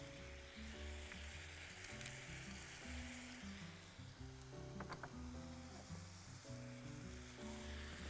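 Pine nuts fry in a pan with a steady, dense sizzle, joined by a few brief stirring clicks, while background tones run underneath.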